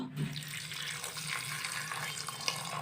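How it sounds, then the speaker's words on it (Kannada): Water runs in a steady, fairly quiet stream into dal in a pressure cooker while a dhaba-style dal tadka is prepared. The pour is continuous and unbroken for the whole stretch, with no speech. "ಸ್ವಲ್ಪ ನೀರು ಹಾಕ್ಕೊಂತ ಇದ್ದೀನಿ"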